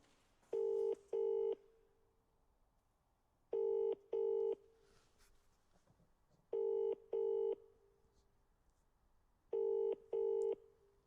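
A telephone rings back during an outgoing call, giving four evenly spaced double-burst rings that are clean and clear, with quiet line hiss between them and no talk.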